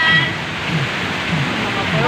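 Heavy rain pours steadily in a dense, continuous hiss close by, with no breaks across the short stretch.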